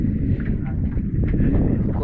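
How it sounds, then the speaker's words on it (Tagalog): Strong wind buffets the microphone in open air beside a boat under repair, low rumbling gusts that surge and dip throughout, loud and close. "Malakas ang hangin."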